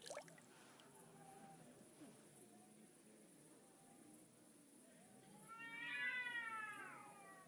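Cats meow in the medieval world of the video game Kingdom Come: Deliverance II, with scattered soft mews early and a louder drawn-out meow toward the end, over quiet ambient game sound.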